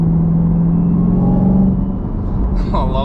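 A 2020 Chevrolet Camaro ZL1 with a supercharged V8 runs steadily under load, a low, strong drone with a steady hum that eases slightly toward the end, where a voice briefly comes in.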